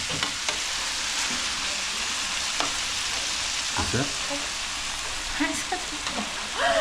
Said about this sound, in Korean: 다 튀기잖아